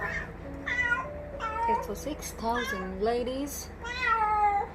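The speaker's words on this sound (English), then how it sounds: "That's my cat. She's on heat." A female cat in heat meows repeatedly nearby, drawn-out wavering yowls in a rhythmic series, with someone speaking briefly in the room.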